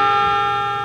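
Train horn in a railway video game, one steady loud blaring tone that sounds briefly and alone.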